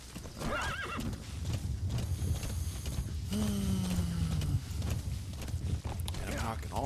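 Hooves clip-clop at a quick pace while a horse in a video game lets out a loud neigh midway, with a busy background rumble throughout.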